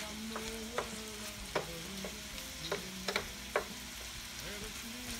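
Shrimp scampi cooking in a pan over raised heat, giving a low steady sizzle with several sharp stirring or utensil clicks scattered through, fairly quiet and with no one talking.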